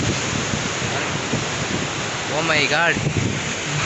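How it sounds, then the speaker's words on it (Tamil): Heavy rain pours during a motorbike ride from Kanchipuram to Pondicherry, with an umbrella held up: a steady, loud broadband hiss mixed with wind buffeting, and a man briefly exclaims partway through. "மழை வேறு லெவலில் வருது."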